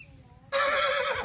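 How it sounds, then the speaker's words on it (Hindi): A mare gives a sudden, loud, shrill whinny at close range, one wavering call rising out of a quiet background with a faint rustle before it. "सामने से सावी नुकरी घोड़ी आ रही है"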